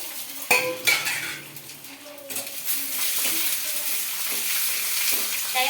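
Roasted peanuts, green chillies, tamarind and garlic being stirred in a hot pan, with a few metallic clinks and scrapes at first, then a steady loud sizzle filling the rest.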